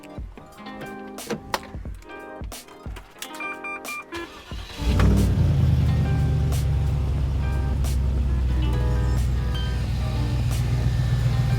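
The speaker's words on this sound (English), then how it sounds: "So we'll start the timer once I start the engine." A car engine cranks and starts about midway, then settles into a loud, steady running drone, preceded by scattered clunks and handling noises; the vehicle is being used to run a recently rebuilt EAS air suspension compressor.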